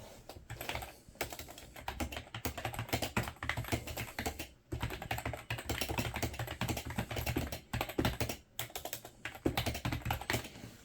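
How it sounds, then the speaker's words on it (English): Steady typing on a white Mac keyboard: a dense, continuous patter of close key clicks with short irregular pauses, alone and without talk. "I was able to buy a key and then have a working Mac keyboard."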